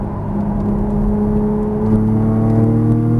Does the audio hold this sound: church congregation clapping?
no